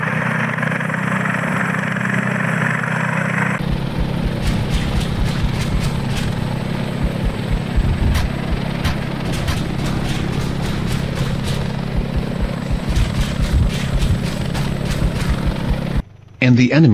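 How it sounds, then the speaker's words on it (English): Spanish Tiger attack helicopters fly in the ARMA 3 game, their steady rotor drone and engine hum running loud throughout, with sharp clicks and bursts scattered over it before a brief dropout near the end. "pass a notice of immediate air support to a squadron of Spanish Tiger attack helicopters"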